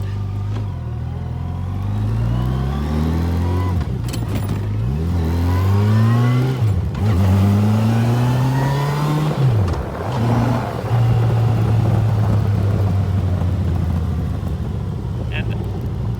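A loud Yamaha FJR1300 motorcycle engine with modified exhaust pipes revs up and down repeatedly with a deep, throaty exhaust roar, then settles into a steady rumble; no one speaks.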